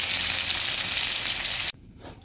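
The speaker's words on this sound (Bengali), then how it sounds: "এবার আলুগুলো ভেজে নিচ্ছি। এটাতে আমি সব কিছু ভেজে নেব।" Potatoes and pointed gourd frying in hot oil make a loud, dense, continuous sizzle that cuts off abruptly near the end, leaving a faint remnant; no speech.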